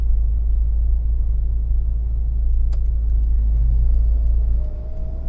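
Inside a moving Toyota Avanza, a deep steady engine and road rumble drones under acceleration, loud and constant, easing slightly at the end, with no talking.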